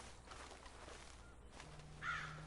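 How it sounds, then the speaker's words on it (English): A single bird call rings out in the Red Dead Redemption 2 game world, a short bright chirp rising over a quiet ambient outdoor background, heard alone without talk. "Another bird!"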